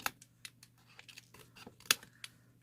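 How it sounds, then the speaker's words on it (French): Small scissors snip the corners of paper pages for a handmade mini album, a series of quiet, close, crisp cuts at irregular intervals with one sharper snap near the end. "avec une petite paire de ciseaux, vous venez couper comme ça en pointe"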